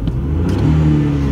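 A BMW E36 lightweight competition car engine turns over and catches, then revs up with a rising, steady mid-range roar, loud and close.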